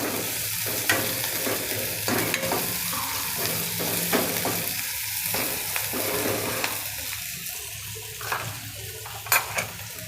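Onions sauté gently for a Gujarati dahi tadka, a soft continuous sizzle with scattered clinks of a spoon against the pot and a few louder scrapes near the end.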